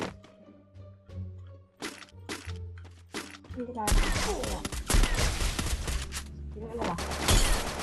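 Sharp gunshots from a shooting video game crack in a spaced series, then break into dense rapid fire, loud and close, with excited talking over the shots.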